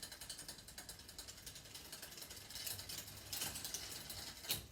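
Bicycle front derailleur with its limit screw still holding the chain, gears ticking and ratcheting in a steady rapid patter while the cranks are pedalled, close and alone with a couple of sharper clicks near the end.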